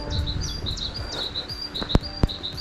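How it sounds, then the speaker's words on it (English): Small birds chirp and tweet in a woodland near a lodge, with repeated short high calls over a steady outdoor hush and two sharp clicks near the end. "the chirping of birds"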